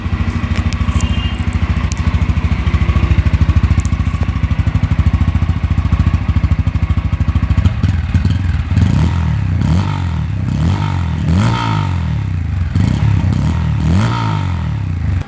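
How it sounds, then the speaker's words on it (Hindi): A Bajaj Pulsar N160 motorcycle with an underbelly exhaust idles steadily up close, then its engine is revved repeatedly in a series of sharp rising and falling bursts over the second half. "ये रहा N160 का साउंड।"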